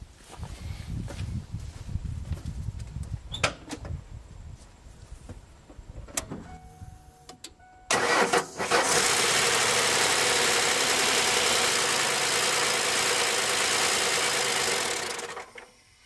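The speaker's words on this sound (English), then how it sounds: "Let's go ahead and turn it over some and see if we can get it to start up." A 1994 Ford F150 with a 4.9L 300cid inline-six that has sat unused for years: several seconds of rough, uneven cranking, then the engine catches into a loud, steady roar that runs for about eight seconds and cuts off.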